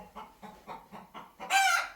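Hens cluck in a steady rhythm of five short bursts, then a rooster breaks into a loud, close crow at the end, with no voices present.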